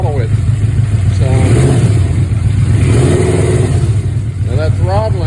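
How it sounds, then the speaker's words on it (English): The engine of a Yamaha Royal Star Venture motorcycle runs loud and steady up close, warmed up and being throttled, while someone talks over the continuous drone. "Once it's warmed up, I'm going to throttle it."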